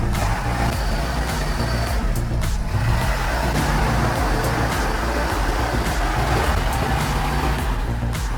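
An off-road truck's engine roars continuously as its big wheels churn in squishy mud, a dense, loud, close drone with irregular thumps and splashes and no voices.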